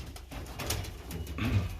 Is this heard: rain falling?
no